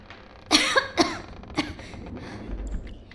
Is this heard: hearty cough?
yes